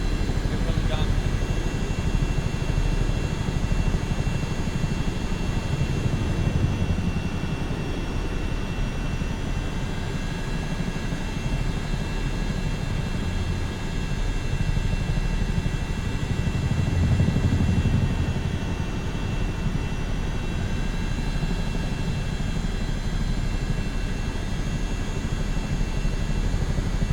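In a flight sim video game, a CH-47D Chinook helicopter's engines and rotors give a constant dense whine and rumble for the whole stretch, steady and loud with only slight swells.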